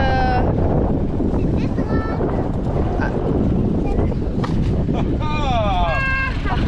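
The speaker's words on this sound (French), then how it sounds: "En plus, il y a du vent" Wind gusts steadily against the microphone aboard a boat, a constant loud rumbling roar throughout, with voices talking over it.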